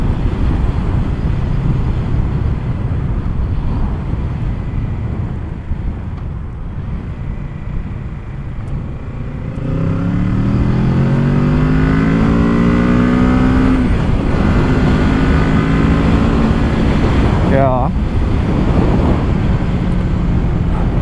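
A two-cylinder Kawasaki Z motorcycle engine rated at 48 PS idles with a steady rumble, then revs up loudly in rising and falling sweeps, close by, with a final sharp blip near the end.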